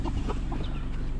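Chickens carried along on a delivery trip, clucking in short repeated bursts close by over a loud rumbling vehicle background.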